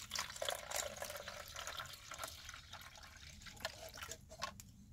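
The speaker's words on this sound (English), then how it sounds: "you pour water in it." Water trickles and splashes into a small swamp cooler, a gentle pouring sound with light drips, close by and fairly quiet, with no talking.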